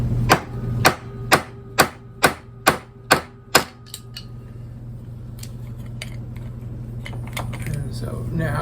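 Eight sharp metallic hammer strikes on a bullet puller in a steady rhythm, close and loud, then they stop and only a low background hum remains.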